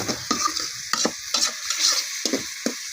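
Eggplant and potato cooking with a fish head in a pan sizzle loudly up close, broken by repeated stirring scrapes at an uneven rhythm, with no voices.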